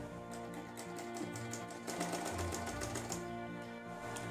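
Domestic sewing machine stitching fabric for an umbrella skirt, a steady close whirring run of rapid needle strokes that continues without a break.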